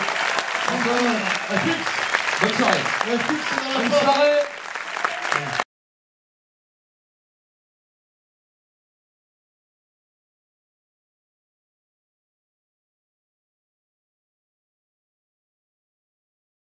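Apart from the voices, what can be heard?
audience applause for performers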